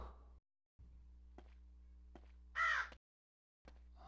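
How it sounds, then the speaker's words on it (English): A single harsh crow caw from Disney Infinity 2.0's Toy Box rises briefly over a low steady hum, framed by a few soft clicks and short stretches of silence. "I'll get some crows."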